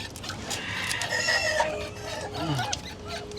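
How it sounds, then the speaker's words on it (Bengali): Brooding hen with her chicks clucks close by, a rising run of throaty calls with soft chick peeps mixed in against a quiet yard. "আমাদের এই মুরগিটা, বাচ্চাওয়ালা মুরগিটা"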